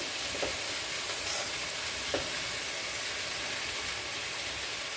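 Sorrel leaves (chukka kura) fry in hot oil, giving a steady, close sizzle with a few faint clicks from a utensil, and no talking.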